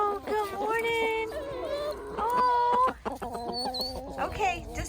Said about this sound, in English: First, we're gonna take care of this crazy chicken.